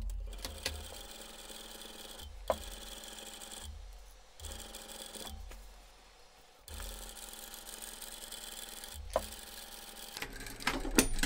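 Sewing machine stitching a pouch seam and finishing with a backstitch: a quiet, close mechanical whir in several short bursts with brief pauses between them.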